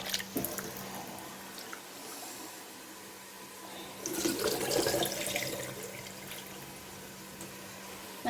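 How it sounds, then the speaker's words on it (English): Two cups of long-grain basmati rice rinsed under tap water in a kitchen sink, a steady hiss of running water with a louder splashing surge partway through, no voices. "I'm going to rinse my rice quickly."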